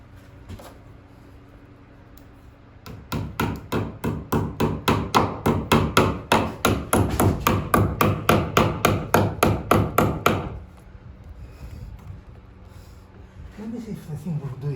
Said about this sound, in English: So can I have the hammer,